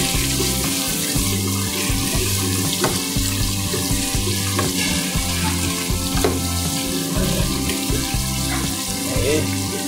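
Garlic and onion fry in hot oil in a pan for a chicken and pork adobo, a loud continuous sizzle with stirring scrapes close up.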